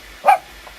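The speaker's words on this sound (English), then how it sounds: "My little doggy's yelling at me." A small dog gives one short, sharp bark close by, a single high yip in an otherwise quiet indoor room.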